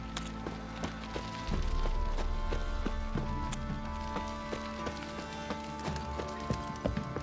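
Horse hooves clip-clop in an open-world fantasy role-playing game, Witcher 3, as a steady rhythm of sharp hoof strikes, close and clear, over a low background bed.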